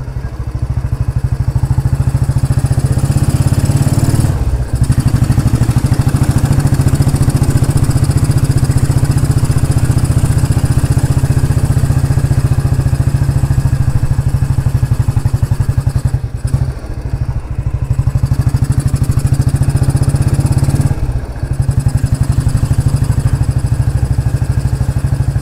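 Royal Enfield Bullet 350 motorcycle engine running, a loud, close, continuous thumping single-cylinder drone that holds steady for the whole stretch with a few brief dips.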